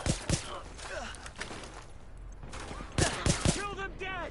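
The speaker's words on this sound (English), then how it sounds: "Gunfire. Sounds like a submachine gun." Submachine gun fire in the video game The Division: short, quiet bursts of rapid shots at the start and again near the end, with game voices talking in between.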